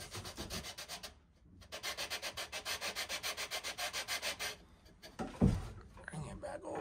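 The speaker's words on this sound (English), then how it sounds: "nifty little sander." A small sander works on wooden boat parts, buzzing through quick repeated strokes in a steady rhythm. A brief pause comes partway through, and a soft knock near the end.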